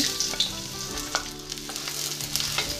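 Garlic and ginger sautéing in hot oil, a steady bright sizzle with soft scraping stir strokes and light clinks, close and continuous with no voices.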